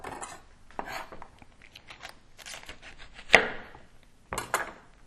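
A knife slicing the base off an artichoke on a cutting board, a few scraping cuts followed by a sharp loud chop and then more rough cutting strokes, close and clear with no talk.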